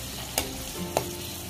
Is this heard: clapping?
no